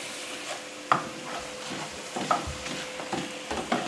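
Crepes crisping in a hot pan, with a soft sizzle under intermittent stirring and utensil taps, a few sharp clicks at irregular intervals, close by and fairly quiet.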